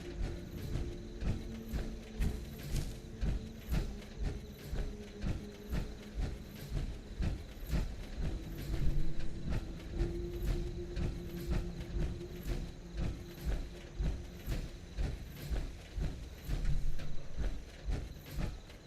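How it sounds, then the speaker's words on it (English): Spooked, escaping horses in the video game Fallout 76 pound in a steady galloping rhythm, loud and close at first and continuing throughout, with a low rumbling background. "Something spooked the horses."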